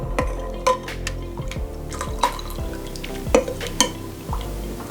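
Boiling cardamom chai is aerated in a pot, with intermittent ladle clinks against the metal and sloshing, bubbling liquid, a series of irregular knocks over a low simmer.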